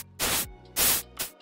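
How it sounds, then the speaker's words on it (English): White noise synthesized in FL Studio and shaped by a low-pass envelope, heard as three separate hissing bursts, with the second one longest, and no voice. "Like a low pass white noise,"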